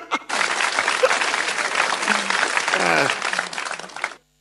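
An audience claps steadily and warmly during a live-streamed show, dense and sustained for about four seconds before stopping abruptly, with voices faintly mixed in.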